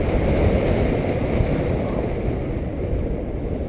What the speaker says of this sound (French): Je pense que le vent est complètement inapproprié à ce genre d'activité.